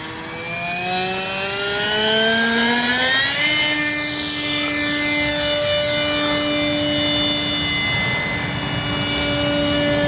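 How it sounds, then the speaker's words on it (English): Propeller engine of a remaidened RC Horten BV-38 German concept bomber model, with the prop mounted away from the fuselage. It buzzes loudly, its pitch climbing as it spools up, then holding a steady, whining drone. "With the prop being not close to the fuselage, it's going to be very noisy."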